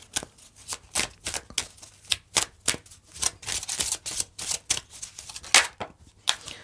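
Tarot cards shuffled and drawn, a run of quick papery snaps and flicks in uneven bursts, close and fairly soft, with no voice.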